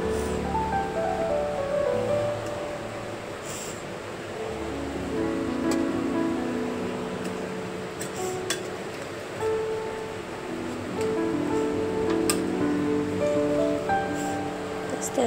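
Fish pieces slipped one by one into a pot of simmering curry broth, giving a continuous bubbling, sizzling wash at close range, with a voice talking over it.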